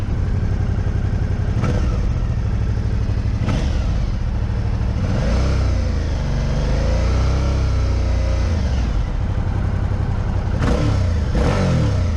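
A 2018 Suzuki DL650 V-Strom motorcycle engine revs and accelerates several times, rising and falling in loud surges with no talking.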